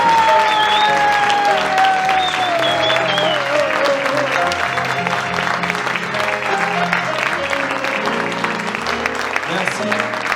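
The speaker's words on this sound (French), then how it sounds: "je voudrais que vous leur fassiez un tonnerre d'applaudissements à toutes les personnes" Concert audience in a hall clapping loudly and continuously, layered with sustained musical tones and a voice over the applause.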